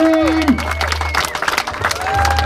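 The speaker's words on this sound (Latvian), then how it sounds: "Viskaļākie aplausi šim vīram." Audience applause and cheering at a trial motorcycle awarding ceremony, Latvian Trial GP 2024 in Grobiņa, loud and continuous with a commentator talking over it through a PA system.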